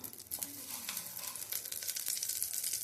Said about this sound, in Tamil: எண்ணெய் காஞ்சதுமே இதில் வந்து நம்ம கடுகு உளுத்தம்பருப்பு சேர்த்துக்கலாம்